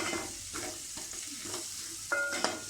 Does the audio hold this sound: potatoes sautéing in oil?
yes